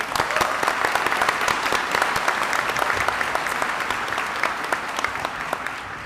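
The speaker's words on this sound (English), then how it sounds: "so I'm going to applaud you for that" Steady applause rolls from a large commencement crowd, with distinct individual claps over a dense wash that holds for several seconds and slowly fades.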